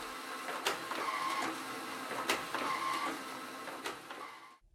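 A Formax FD 1202 folder-sealer runs printed forms through its feeder with a steady mechanical whir and periodic sharp clacks as each form passes, stopping abruptly at the end.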